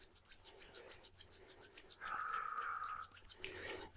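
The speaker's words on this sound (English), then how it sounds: "create a little friction here by rubbing the hands" Palms rubbed briskly together during a yoga energy practice, a steady close rasping friction that swells louder and brighter midway through the few seconds.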